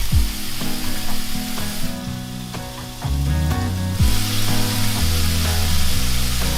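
Diced onion and half a teaspoon of cumin frying in extra virgin olive oil in a skillet over medium heat, a steady close sizzle with stirring and scraping, strong harmonic background music running throughout.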